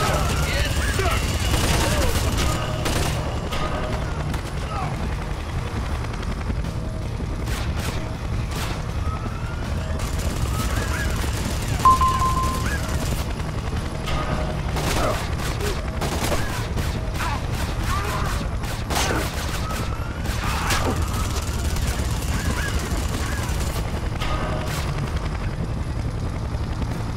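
Scattered gunshots and short volleys ring out over a constant rotor-like mechanical drone in Splinter Cell: Conviction, moderately loud and spread across the whole scene.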